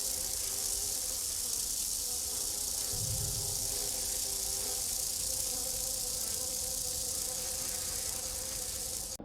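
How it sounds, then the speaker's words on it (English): A swarm of bees released from a Grim canister in Rainbow Six Siege buzzes as a dense, hissing drone that is steady and continuous throughout, with a brief low thump near the start and no voices. "how long does it take for the bees to come out?"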